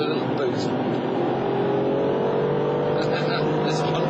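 Ferrari 575M GTC engine pulling hard in fourth gear with its throttle opened, a loud steady roar from inside the cabin, with a driver speaking over it.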